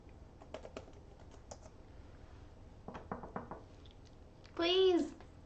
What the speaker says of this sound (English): When you think you're typing and you're not actually typing.